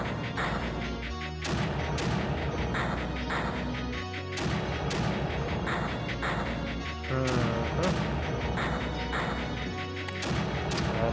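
Mortars in the strategy game Creeper World firing in heavy, near-simultaneous volleys, loud booming impacts repeating roughly every couple of seconds over a constant dense rumble.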